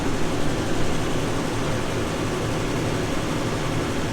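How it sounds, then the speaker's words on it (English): A loud, steady mechanical roar drones without pause, broadband and continuous, as a tractor's power shaft drives the vacuum pump of a slurry tanker. "We'll start the power shaft, give it a few revs, let it build up a bit of pressure"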